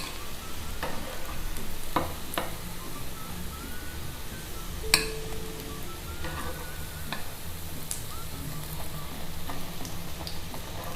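Shami kababs fry in foaming oil with a steady, even sizzle and occasional light clinks of a utensil against the pan, with no one talking.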